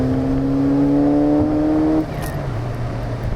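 A modified Ford Fiesta ST engine revving during a rev match, a loud steady engine tone that cuts off abruptly before settling to a lower drone, close and with no talk.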